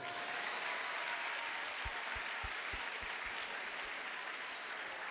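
An audience at a live stand-up comedy show applauds steadily, a dense, even wash of clapping that holds for the whole stretch with a few low thumps underneath.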